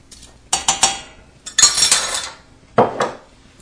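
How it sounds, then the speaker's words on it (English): A spoon clinks and scrapes against a metal pot while stirring vanilla extract into chocolate frosting, with a few sharp knocks followed by bursts of scraping and rattling, close and loud, with no talk. "you wanna take it off the heat and stir in a 1/2 teaspoon of vanilla extract"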